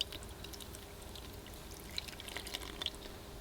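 Whole milk poured into chiffon cake batter makes a soft, faint, continuous trickling pour with a few small splashes near the end, heard close and quiet with no talking.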